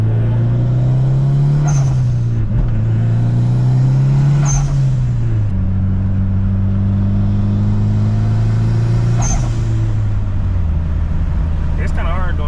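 A Mitsubishi EVO 8 engine revs up close and loud, climbing in pitch in several pulls with brief drops between them and a sharp hiss at each shift, with no talking.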